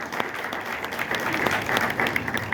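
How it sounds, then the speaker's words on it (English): An audience at a vintage rockabilly fashion show applauds a model, a steady patter of clapping from a moderate crowd that swells slightly and holds through the clip. "Let's give Bonnie a round of applause."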